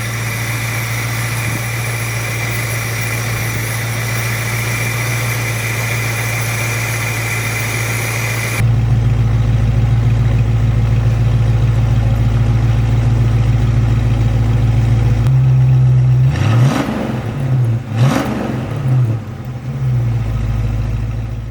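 A 1966 Ford Mustang 289 V8 idles steadily close by, then the idle note steps up and holds before a couple of quick throttle blips near the end, with no voices.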